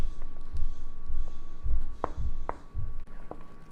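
Chocolate banana muffin batter with eggs being mixed by hand in a bowl, soft thuds and scrapes landing in uneven strokes close by, with a couple of sharper knocks and no speech.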